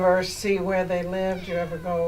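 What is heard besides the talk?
cat meowing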